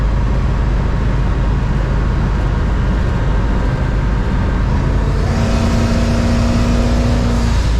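The turbocharged engine of a 1983 Chrysler Cordoba runs rich and missing, a loud continuous rumble with uneven roughness, close by, with a higher whine joining in the last few seconds.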